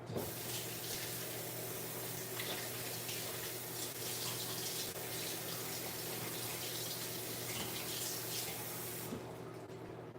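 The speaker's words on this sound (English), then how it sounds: "I like to rinse the outside of my containers as well as the inside." Tap water runs continuously into a sink while film developing containers are rinsed inside and out, a loud, steady close splashing rush that cuts off near the end.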